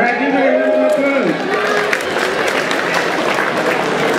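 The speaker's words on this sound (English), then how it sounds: "All right, give me a round of applause." A conference audience at a Sound of Africa 2013 gathering breaks into loud, continuous applause mixed with cheering, while a voice talks over the start before the clapping carries on alone.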